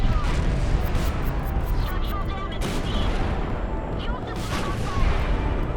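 Dense, continuous battle din of naval gunfire and shell hits aboard airships in Highfleet, sharp bursts layered over a steady rumbling roar, loud and close throughout.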